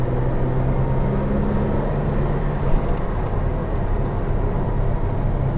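A 1973 BMW 3.0 CSi coupe's straight-six engine with a stock 4-speed manual, heard from inside while driving: a steady, smooth broadband drone with a low hum, continuous and fairly loud throughout, with no talking.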